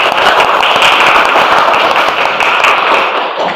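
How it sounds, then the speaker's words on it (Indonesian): Roaring, thunderous applause from a classroom of students, a loud, close, unbroken wash of many hands clapping at once that holds steady for several seconds before easing slightly at the end. "Tepuk tangan yang gemuruh."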